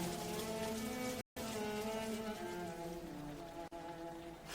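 Steady rain falling as a radio drama sound effect, a dense continuous hiss with one brief dropout, playing alone without voices.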